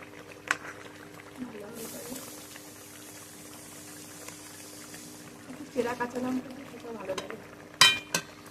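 Pabda fish curry gravy with chillies boiling in a pot: a steady low bubbling hiss with a few clinks and stirring knocks toward the end, with a voice talking now and then.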